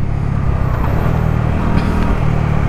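A Bajaj Dominar 400cc motorcycle engine runs steadily while riding, a continuous low, rumbling drone with wind noise, close and loud throughout with no talking.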